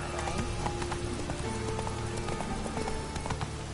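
Hooves of Roach, a horse in The Witcher game, clip-clop in a steady rhythm at moderate level over a continuous music and ambience bed.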